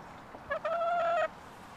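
Chickens in a backyard chicken coop let out a brief clucking call, a short burst followed by a sustained squawk lasting under a second, heard up close over quiet outdoor background.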